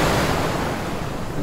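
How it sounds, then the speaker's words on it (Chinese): Ocean waves crash and splash against hard volcanic rock at Nusa Dua beach in Bali, a steady, loud, close roar of surf with wind noise and no voices. "而海浪流经此区域 会无规律地溅起巨大的浪花"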